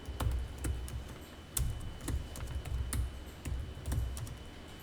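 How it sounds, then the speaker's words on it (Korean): Steady typing on a computer keyboard as an address is entered, bursts of quick keystrokes in uneven rhythm, close and moderately loud with no talking. "주소 직접 타자하면 돼요."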